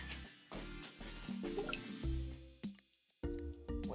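Oil whisked with food coloring being poured into a glass of water, heard as irregular splashy drips and glugs with brief gaps, quiet and close.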